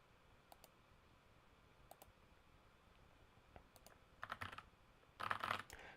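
Quiet keystrokes on a computer keyboard, a few sparse clicks at first, then a quicker burst of typing near the end, faint over a low room hiss.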